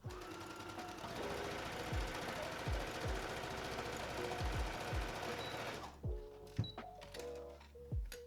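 A sewing machine runs continuously for several seconds, sewing ruffles down around a sundress with a steady, even whir, then stops, leaving a few scattered clicks and knocks.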